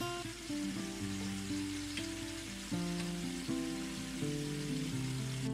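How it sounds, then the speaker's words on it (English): Beef with ginger and garlic cooks in a pan as the liquid comes to a boil, a soft, steady bubbling hiss running under louder background music throughout. "All the meat's been added to the pan. It's starting to come to a boil."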